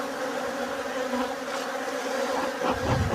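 Aggressive honey bees swarm around an open hive during queen rearing, a dense, continuous close buzzing with wingbeats rising and falling as individual bees dart near.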